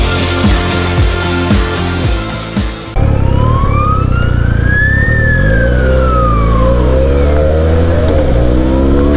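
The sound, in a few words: ambulance siren behind the car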